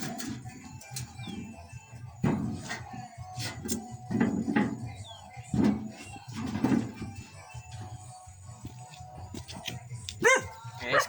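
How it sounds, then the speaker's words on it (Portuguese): A fierce farm dog barks in repeated bursts at moderate distance outdoors, with birds faintly audible in the background and no talk over it. "É esse cachorro brabo"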